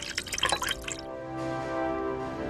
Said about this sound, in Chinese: 往坛眼里倒进清水，阻断空气和细菌。